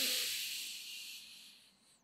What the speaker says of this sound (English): So we want to take that air in